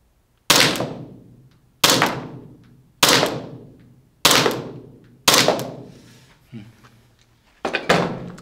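A custom Glock pistol fires at a wall target indoors: six loud, sharp shots, the first five spaced about a second apart and the last after a longer pause, each with a reverberant decaying tail.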